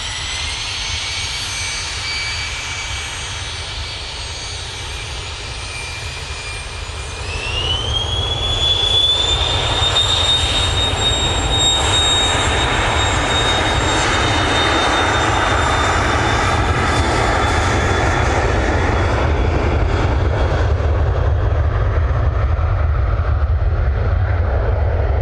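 A jet airliner takes off from Manchester Airport bound for Guernsey, its engines rising from a steady roar to a louder, sustained thunder with a climbing whine, heard from nearby and continuous throughout.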